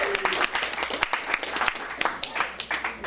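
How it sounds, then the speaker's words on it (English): Audience applause at a small venue event, a room full of people clapping in a steady patter of dense overlapping claps lasting about three seconds, moderately loud and close. "Please give the Green Door a big round of applause"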